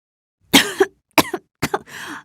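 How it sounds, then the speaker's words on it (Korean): A person coughs three times in a dry, close burst pattern, the last cough trailing into a rougher throat sound, with silence between bursts. "계속 기침이 나고 가슴도 답답한 것 같아요"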